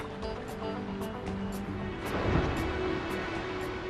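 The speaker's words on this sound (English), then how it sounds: "Heavy surf stirs up food." Heavy ocean surf and swell off wild European island coasts, a continuous broadband wash of breaking water that swells louder around the middle, with no voices.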